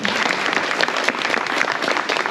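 An audience at Jølster Aurefest claps in steady, dense applause throughout, fairly close and loud with no speech.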